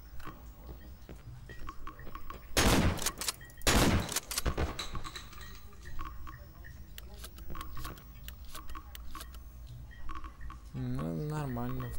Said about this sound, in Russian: Да, выстрелы.